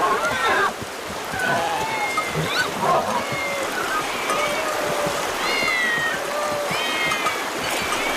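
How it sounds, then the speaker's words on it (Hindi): Many cats meow in overlapping, high wavering cries scattered across a busy outdoor scene in an ancient city, heard over a steady wash of background noise like running water, with voices murmuring underneath. "ये इतनी सारी बिल्लियां यहाँ क्या कर रही हैं?"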